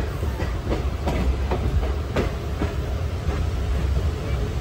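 Rhythmic clickety-clack of a train rolling over the rails between Chaygaon and Nagaon, Assam, heard from inside with a steady low rumble and faint voices in the background.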